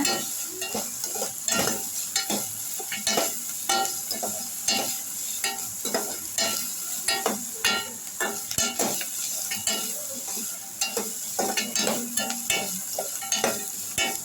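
Onions sautéing in a pan for tomato rasam, a steady soft sizzle broken by repeated scraping stirs of a spatula against the pan, close and fairly quiet, with no talking.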